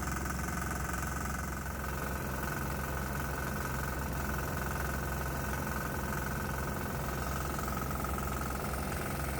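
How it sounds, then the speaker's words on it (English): A 196 cc 3 hp single-cylinder diesel engine running on propane idles steadily with a rapid, persistent knocking beat, close and alone with no talk, held at an even governed speed. "The knocking sound is unsettling though."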